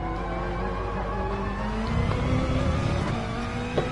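Race car engines in a racing video game, including a Ferrari, drone loudly and continuously with layered revving tones that swell briefly midway, no voices heard.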